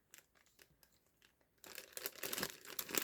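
A quilt kit package being opened, starting with faint scattered crinkles and then turning into louder, dense tearing and crumpling of plastic wrapping close by, with no talk.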